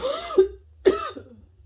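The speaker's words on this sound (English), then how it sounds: "I had to sneeze." Two quick, sharp sneezes burst out close by, each a harsh, cough-like explosive exhale, separated by a brief pause.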